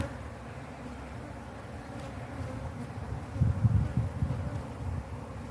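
Bees hum low and constant around a defensive hive during a honey harvest, a droning buzz that swells louder midway as insects close in near the microphone, with light rustling and no talk.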